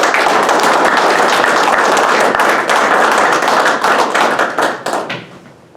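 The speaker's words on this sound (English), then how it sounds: "Let's give this group one more round of applause." Audience applause at an Air Force graduation ceremony for the 3E231 Dirt Boyz class, a dense, steady wash of many hands clapping that carries on loudly before tapering and thinning out near the end.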